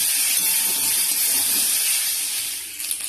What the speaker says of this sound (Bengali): চিংড়ি মাছগুলো দিয়ে দেবো, দিয়ে ভালো করে আবার একটু ভেজে নেব